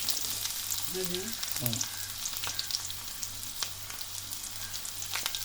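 Sliced onions and small onions frying in hot oil give a steady, fairly quiet sizzle with faint crackles throughout, and a brief soft voice appears early on.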